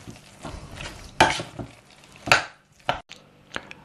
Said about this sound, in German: Nun kommt der Corned Beef noch mit dazu. Das Ganze rühren wir ordentlich durch.